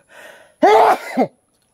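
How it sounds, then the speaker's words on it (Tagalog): A person gives a harsh, voiced cough after a soft breathy lead-in, the main burst loud and close with a short second hack at the end. "Yun, ubo-ubo tayo dito."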